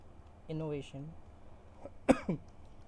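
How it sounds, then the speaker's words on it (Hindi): A brief spoken phrase, then a pause, followed by two quick, sharp coughs close to the listener. "खांसी क्यों हो गई मुझे"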